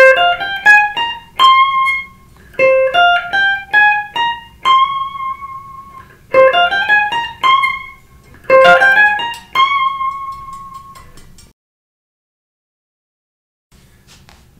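Electric guitar playing a guitar solo, with bent notes and vibrato on the high C. Phrases repeat four times, starting slow and getting faster, then it goes quiet near the end.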